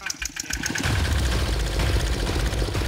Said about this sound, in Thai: จะต้องควบคุมรถไถครับเดินไปเรื่อยๆครับ